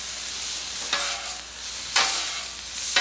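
Food with soy sauce stirred on a Blackstone griddle, a loud hissing sizzle with three sharp scraping strokes of a spatula roughly a second apart, nearby with no talk.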